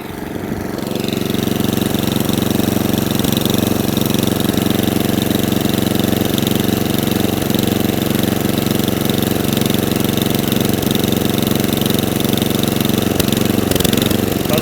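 An Atco Balmoral cylinder lawnmower engine that keeps cutting out idles steadily and loudly, its note wavering slightly back and forth without settling, running on alone throughout.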